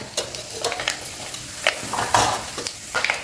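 Chana dal, urad dal, mustard seeds and cumin sizzle and crackle in hot peanut oil for a chili pickle tempering, with scattered pops and stirring scrapes over a steady frying hiss.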